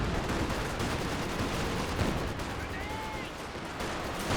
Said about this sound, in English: Huge barrage now running on in.